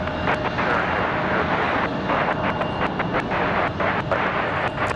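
A Southwest airliner takes off at Raleigh-Durham airport, its engines a loud, steady broadband roar that holds throughout without a break.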